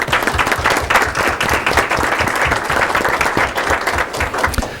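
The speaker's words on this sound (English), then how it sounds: "that needs a little applause" Audience at a Santa Barbara Unified School District board meeting applauds, a lively, dense round of clapping with individual sharp claps close by, sustained at fairly loud level for about five seconds.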